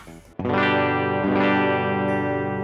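Electric guitar on the back pickup through a Bogner Ecstasy Blue overdrive pedal set to Plexi mode with the Variac off: a brief muted strum, then a thick, sustained distorted chord rings out loud and alone, restruck once.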